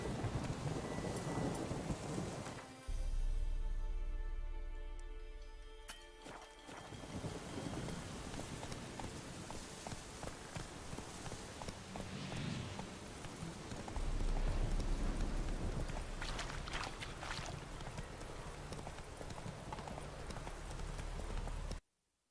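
Roach, the horse in The Witcher 3, clip-clops steadily under heavy rain and rumbling thunder, the hooves close and rhythmic throughout a stormy game soundscape with no talking.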